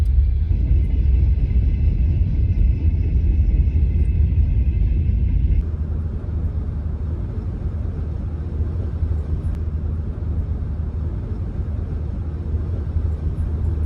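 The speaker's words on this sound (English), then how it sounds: "It's one long train." A long train passes near an old farm, a loud steady low rumble that drops slightly in level partway through but rolls on continuously, with no voices.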